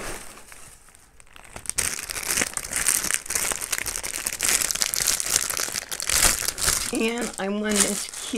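Tissue paper crinkles and rustles loudly as it is unwrapped from a small mailed gift, with continuous crackling handling and someone speaking briefly near the end.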